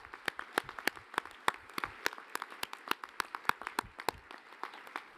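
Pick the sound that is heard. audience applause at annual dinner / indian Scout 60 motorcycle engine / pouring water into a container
audience applause at annual dinner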